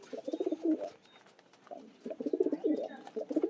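Fullshira bloodline racing pigeons coo in soft, throaty bursts close by, pausing and then starting again.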